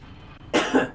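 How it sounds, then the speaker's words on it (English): A single sharp cough bursts out after half a second of quiet room tone, with a second rougher cough following, close and loud with no speech. "I'm so sorry for all my coughing"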